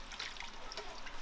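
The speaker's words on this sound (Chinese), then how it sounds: "先给那个眉毛肉洗一下" Water running over pork brow meat as it is rinsed for fried crispy pork: a brief, close, steady trickle and splash with no talk.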